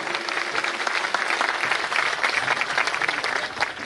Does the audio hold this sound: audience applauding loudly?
yes